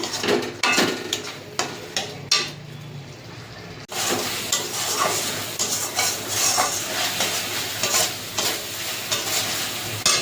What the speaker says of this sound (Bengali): এই রাখো কষানো হয়ে গেছে মশলাটা